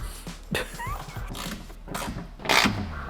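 A hand ratchet cranks old Volkswagen axle bolts to mount a subwoofer box inside a Mazda Miata, giving several close, uneven bursts of clicking and mechanical rattling with brief pauses between strokes.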